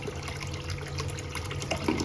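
Liquid poured from a snuffer bottle into a gold extractor box, a steady close trickle and splash of flowing water lasting the whole stretch, no voices over it.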